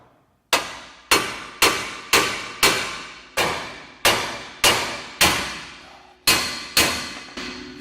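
A hammer strikes a car's steering knuckle about a dozen times in a steady rhythm, each sharp metallic clang ringing briefly before the next blow.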